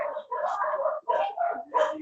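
A dog at a beach lets out a series of short, close barks and yips in quick, uneven bursts, with brief pauses between them and no talking.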